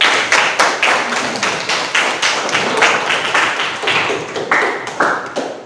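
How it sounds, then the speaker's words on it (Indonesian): A classroom of pupils claps in a quick, rhythmic pattern, sharp, evenly spaced hand claps repeating for several seconds at close range and fairly loud, with no talking over them. "kasih tepuk tangan dulu"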